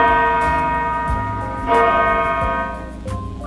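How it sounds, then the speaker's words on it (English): A large bell rings with a deep, long-sustaining tone, swelling again about halfway through as it is struck once more, full and resonant with no voices. "When the larger one is struck, the result will be low energy sound waves."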